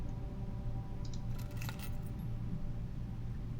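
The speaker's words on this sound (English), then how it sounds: "Car keys. A spare set of car keys." A spare set of car keys jangling in the puzzle game Blue Prince, heard as a brief cluster of light metallic clinks over a steady low background hum, with no talking.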